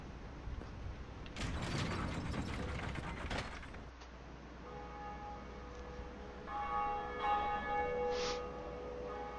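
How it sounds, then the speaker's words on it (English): In Dark Souls, the Bell of Awakening rings out after a clanking rush of gears, ratchets and pulleys, its tones lingering and fading with a faint metallic ring. "that's the bell we've been hearing periodically as we've been in this area"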